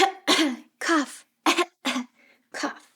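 A child-friendly reader's voice imitates a sneeze, sniffing and a cough in a run of short, breathy bursts separated by brief pauses, loud and close, with no other talk.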